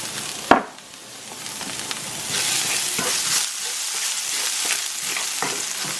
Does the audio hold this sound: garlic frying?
yes